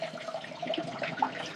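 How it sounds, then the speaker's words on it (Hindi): Water pouring into a blue plastic drum, a steady splashing rush close by, ending with a sharp knock. "इसमें आज पानी भर के रख देती हूँ।"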